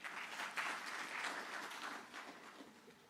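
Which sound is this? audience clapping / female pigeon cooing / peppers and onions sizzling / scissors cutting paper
audience clapping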